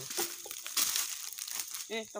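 Paper crinkles and rustles in short bursts while people talk nearby.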